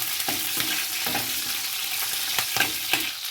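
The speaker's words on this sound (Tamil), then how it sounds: "அதை போட்டு நல்லா வதக்கி விடுங்க" Chopped green chillies sauté in hot oil in a pan, giving a steady close sizzle broken by regular scraping stirs about every third of a second, with no voices.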